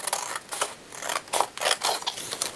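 Scissors snip steadily through paper for a handmade baptism mini album, a close run of about eight crisp cuts in an even rhythm with no talking.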